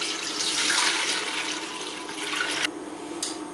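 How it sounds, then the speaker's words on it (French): Quince juice pouring into a large container, a continuous close splashing rush of liquid that eases off near the end. "dans un grand récipient, on va mettre donc notre jus"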